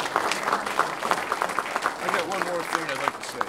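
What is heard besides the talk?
audience applause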